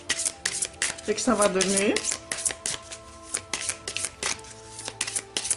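Oracle cards are shuffled by hand in quick, crisp riffling bursts throughout, close up, while someone speaks briefly in French over them.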